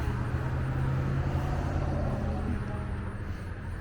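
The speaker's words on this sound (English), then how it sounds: "I'm not sure how much you can hear me over the traffic" Steady road traffic from a busy street beside a park and pool, a constant low roar of passing cars with no pauses and no clear single vehicle standing out.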